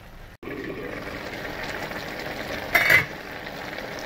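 Yellow squash sautéing in a pan for a vegan lunch, a soft continuous sizzle close by with a brief louder clatter of utensil against the pan near the end.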